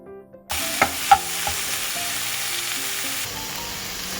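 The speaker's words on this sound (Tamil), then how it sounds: "அப்புறம் இடித்து வச்ச பூண்டு ரெண்டையும் சேர்த்து நல்லா வதக்கி விடலாம்" Crushed garlic and small onions sauté in a hot pan for a traditional sambar, with a steady close sizzle and a few sharp spoon clinks against the pan early on.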